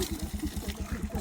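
An adi pambu hand pump is worked in quick strokes at night, a rhythmic gulping pulse of water about eight times a second, close by and fairly loud.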